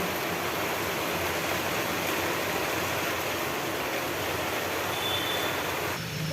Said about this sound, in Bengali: এই যে বৃষ্টির শব্দ।